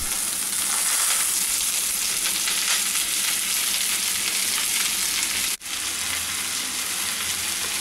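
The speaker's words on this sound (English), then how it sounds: "When it splutters, add 3 finely chopped onions." Finely chopped onions sauté in oil with cardamom, cinnamon and cloves, a dense, loud, continuous sizzle held close up, with one sharp brief dip near the end and no voices.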